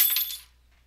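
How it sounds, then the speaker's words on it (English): A cat plays with a set of keys, giving a brief, bright metallic jingle close by that fades out within half a second. "You don't have to play with my keys."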